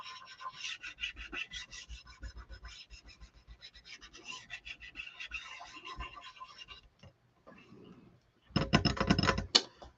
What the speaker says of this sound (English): So I'm just going to burnish where the silk screen is and try to be careful not to get on my dots.